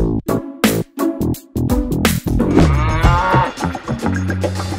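Cow mooing around Bakra Eid, a long, loud, close low moo that rises and then drawls out, following a few short choppy sounds at the start.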